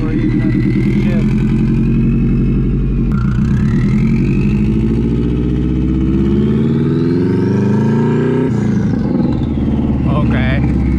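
A Subaru WRX engine swapped into a Porsche Spyder with a four-speed gearbox revs loudly and close up, the pitch rising and falling through several sweeps below 3,000 RPM, with people talking over it.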